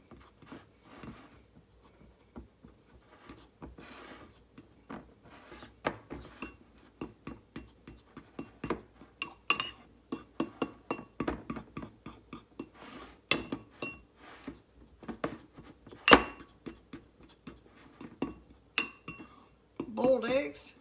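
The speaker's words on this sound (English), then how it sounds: "we're going to mix up our" Boiled egg yolks being mixed in a bowl for a party appetizer, with repeated light clinks of a utensil against the dish in an irregular rhythm, up close and growing busier toward the end.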